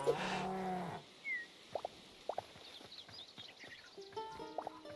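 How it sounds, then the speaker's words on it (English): A cow in the video game Hytale lets out a low, drawn-out moo at the start, followed by short scattered in-game sounds and faint rustling as the moo fades. "There's a cow."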